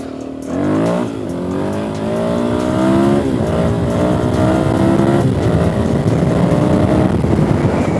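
Dirt bike engine, near and loud, revving hard and climbing through the gears to fifth, with rising harmonic whine restarting after each shift and a steady roar throughout.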